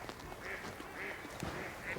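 A duck quacks three times in a steady rhythm, fairly faint and nearby, over quiet outdoor background.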